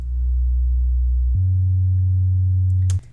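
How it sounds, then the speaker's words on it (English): A deep electronic bass note, a Reese bass layered with pure sub bass from the Orbital synth, holds low and loud, shifts to a new pitch partway through, then cuts off. "So what I like to do is just layer my Reese bass with sub"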